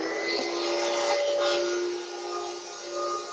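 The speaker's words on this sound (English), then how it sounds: "Kick the vacuum on." A shop vacuum running in a cold workshop, a steady loud whining roar with a constant tone that eases slightly toward the end, no talking.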